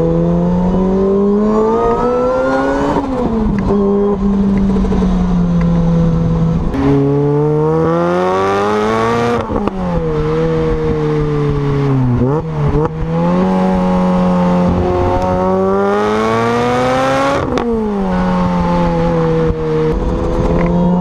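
A loud Lotus Exige S engine revving up and down through gear changes on new tires, rising and falling pitch repeatedly as it accelerates, close and continuous.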